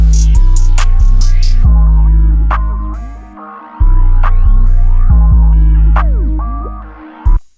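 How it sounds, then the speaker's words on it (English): Hip-hop beat breakdown in FL Studio with a low pass filter preset cutting the highs from the melody, leaving booming bass, muffled keys and thumping kicks in a loping pattern, cutting out briefly midway before returning. "Simple low pass preset."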